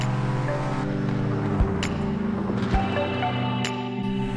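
A Ford F-150 RTR pickup truck driven around the Nordschleife in Project Cars 2, its engine droning steadily and loudly with sustained harmonic hum and a couple of brief thumps, no talk over it.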